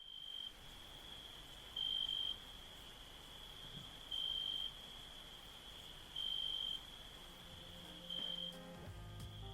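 A cricket chirping sound effect: shrill, evenly spaced chirp pulses roughly every two seconds over a faint steady hiss, quiet and alone without any talking.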